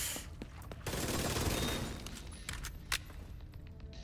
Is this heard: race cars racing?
no